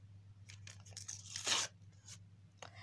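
A paper surprise packet is torn open in a run of short rips, crackling and crinkling, with one long loud tear in the middle and no voices.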